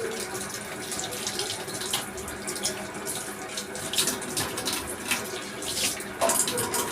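Kitchen faucet running into a sink during washing, a steady splashing flow with occasional louder gushes and clinks, close by.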